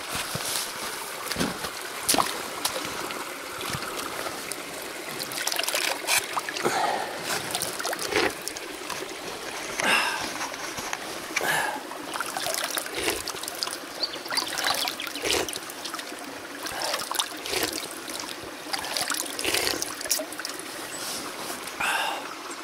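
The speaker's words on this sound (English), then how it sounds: "Straight out of a little spring. Beautiful little creek." A small spring-fed creek trickles and burbles steadily outdoors, with soft splashes and occasional louder drips.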